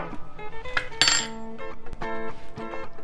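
Half a cup of cassava flour being stirred into a bowl with beef suet, salt and thyme, giving clinking, scraping utensil-on-bowl sounds in an irregular rhythm, close and fairly loud, with no talking.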